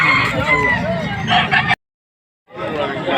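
Bantam chickens and chicks cluck and chirp close by with a person talking over them, then the sound cuts to a second of silence before the birds' chatter resumes.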